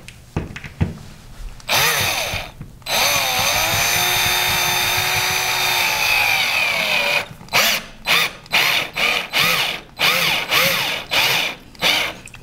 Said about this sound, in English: here we are putting the screws into the wall